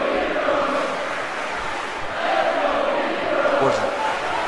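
A virtual wrestling arena crowd in WWE 2K18 roars steadily in the background, a broad wash of cheering and chanting under a commentator's voice.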